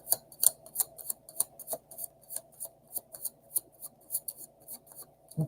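Tarot cards are shuffled loosely and messily, giving a quick irregular series of crisp slaps and riffles, close and fairly loud, with no talking.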